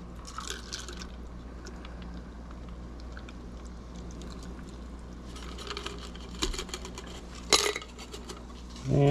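Rum punch cocktail poured off into a small mug, soft liquid trickles and drips with a few clinks of glass and utensils, close and quiet over low room noise.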